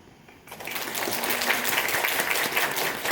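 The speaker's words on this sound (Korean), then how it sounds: "여러분 자신에게 그리고 함께 수료하는 친구들에게 따뜻한 박수 보내주세요" After a brief quiet moment, an audience at a Korean language course graduation ceremony breaks into steady, sustained applause.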